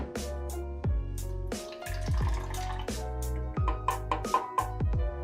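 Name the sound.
water poured into a makeshift calorimeter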